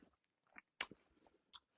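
Crunchy raw jicama, optionally salted and spiced, is bitten and chewed close up, giving a few sharp crisp crunches with quiet gaps between them.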